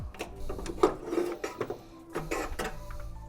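A car jack in a Suzuki JA11 Jimny kei car is wound open, giving quiet, irregular metallic clicks and creaks close by with no talking.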